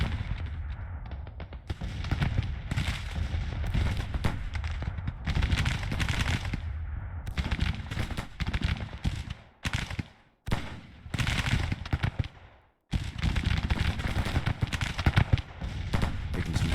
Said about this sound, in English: Taking some heavy artillery fire over here.